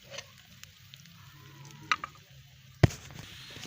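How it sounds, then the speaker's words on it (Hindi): Chopped onion and garlic fry quietly in a pan, a soft sizzle with a few small pops and one sharper crackle near the end. "थोड़ा सा प्याज को फ्राई करने के बाद इसी दौरान हम ऐड कर देंगे लहसुन का कटा हुआ काट कर और इसको मिक्स कर लेंगे"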